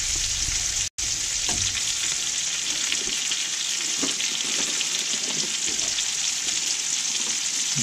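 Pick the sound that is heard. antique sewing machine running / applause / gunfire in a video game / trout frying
trout frying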